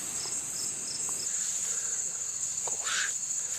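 Steady high-pitched cricket chirping fills the background continuously, a dense insect drone with a few faint other sounds over it.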